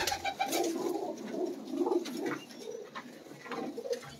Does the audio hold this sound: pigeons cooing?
yes